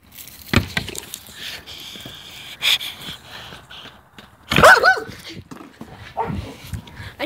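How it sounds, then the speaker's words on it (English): A dog behind a fence outdoors lets out a few sharp barks and yips, spaced apart, with a louder burst midway and faint voices and rustling between them. "There's dogs beyond this fence."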